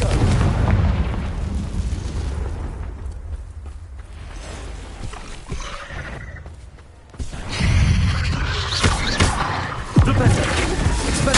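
Confringo spell blasts in Hogwarts Legacy boom and rumble through a magical duel, heavy low bursts rising and fading around a dip, mixed with game effects and a voice calling out spells.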